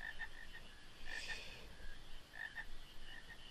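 Frogs croak in the video game Final Fantasy IX, several short chirping calls repeating at irregular intervals over a soft ambient background, with no talking.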